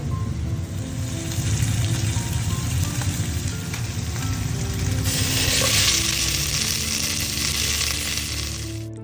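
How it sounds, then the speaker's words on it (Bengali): Small phasa fish frying in hot oil, a loud, continuous close sizzle and crackle with occasional clinks, growing brighter near the end, with no voices. "ফ্যাসা মাছের তেলের মধ্যে এই ছোটো মাছগুলো দিয়ে দিয়েছি ভাজার জন্য"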